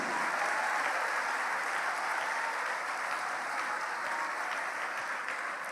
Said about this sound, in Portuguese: E vamos aplaudir mais ao nome de Jesus.